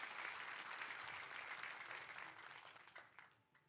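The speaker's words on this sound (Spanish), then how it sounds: "Dele un fuerte aplauso a Dios por eso." Congregation at a church service applauding together, a dense sustained clapping that holds steady, then thins and fades toward the end.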